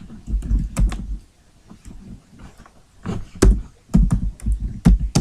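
HTML code is typed on a computer keyboard: close, quick clusters of key clicks come in uneven bursts, with short pauses between runs of typing.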